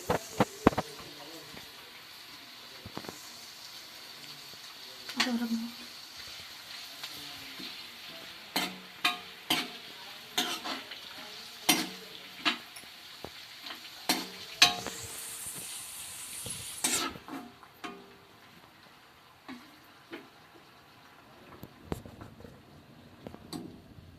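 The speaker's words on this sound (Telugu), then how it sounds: "ఇప్పుడు ఇందులోకి కరివేపాకు అయితే వేసేసుకుందాం" Curry leaves fry in hot oil for pulihora, a low continuous sizzle with frequent sharp spatters and pops and the clatter of a spoon stirring in the pan.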